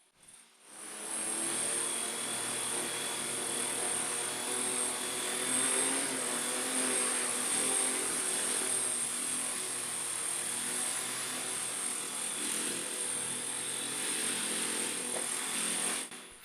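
Remote-controlled V-22 Osprey model tiltrotor flying without gyro stabilization, giving a steady, loud high-pitched electric motor whine with rotor buzz that continues for the whole stretch with no talk.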